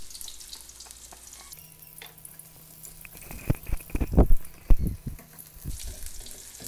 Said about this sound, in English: I'm gonna add the garlic. So these are a bit minced garlic.